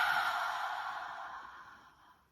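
A single slow, deliberate breath, a close, airy exhale that fades out over about two seconds.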